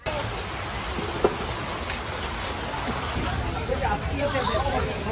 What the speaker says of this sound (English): Suddenly, it's just raining so hard right now.